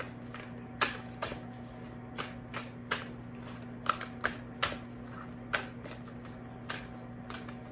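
Alice in Wonderland oracle cards are shuffled by hand, making a series of crisp, close riffles and taps at an uneven rhythm over a quiet room, with no one talking.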